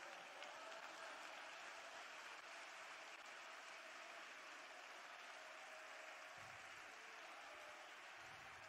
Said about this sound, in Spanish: Una vez más, levante fuerte ese aplauso a la gloria de Dios.